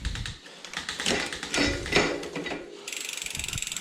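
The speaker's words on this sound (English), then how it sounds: "we need to get the chain down onto the smallest sprocket on the back of your cassette" A bicycle chain shifts down onto the smallest sprocket of a rear cassette: close mechanical clicks and clatter, then a steady, rapid ratcheting tick from the freewheel near the end, with no talking.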